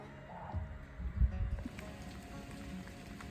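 Light rain falls steadily on a garden, a soft continuous patter with a low rumbling background and no voices.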